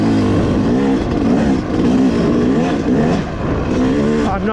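A 2025 Yamaha YZ250X two-stroke dirt bike pulling mildly in fourth gear on a forest trail, a loud close engine drone with wavering pitch as throttle rises and eases.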